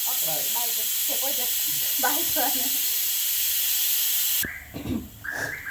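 A pressure cooker releasing steam gives a loud, continuous hiss that runs under a person talking, then cuts off abruptly near the end, leaving the voice alone.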